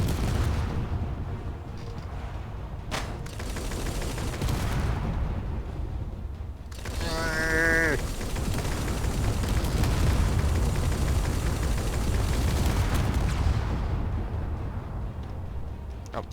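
Rocket launches and explosions in the video game Space Engineers during an attack on an aircraft carrier: continuous heavy rumbling blasts with a brief rising whine near the middle, loud and dense throughout.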